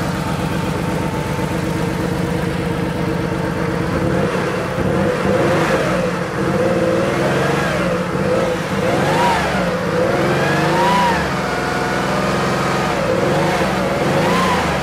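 A Porsche 3.2 Carrera flat-six idles right after its first start, running steady and close. The revs rise briefly and then settle back. No one speaks.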